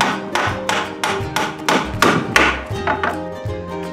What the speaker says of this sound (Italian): per inchiodare usate un martello non tanto pesante